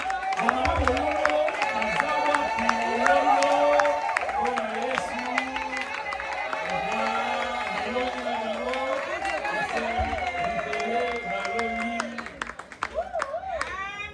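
A wedding congregation cheers and applauds in celebration during a church wedding blessing: a dense, loud crowd roar with scattered claps and raised, ululating voices that runs steadily throughout, then thins out near the end.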